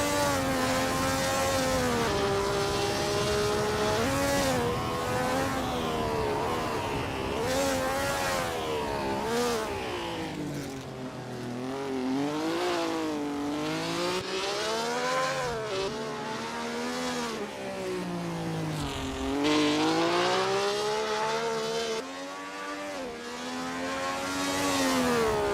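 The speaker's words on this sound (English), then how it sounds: "Pearson is getting to grips with the Maserati 250F 12-cylinder in this practice session" A Maserati 250F 12-cylinder race car in Assetto Corsa, driven in practice at the Thomson Road Grand Prix circuit, howls loudly and steadily, its pitch rising and falling through repeated gear changes and corners, with no talking.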